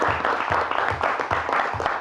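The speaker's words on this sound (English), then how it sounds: "Nisanel Gads, Rabbi Isai, a big round of applause." An audience gives a round of applause at a Daf Yomi lecture event, a dense, even wash of many hands clapping close by throughout the short stretch.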